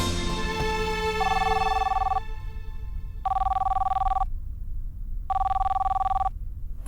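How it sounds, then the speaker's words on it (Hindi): A telephone rings loudly in three long electronic trills separated by short pauses, close and alone. "ये फोन का घंटे कब से बज रहा है?"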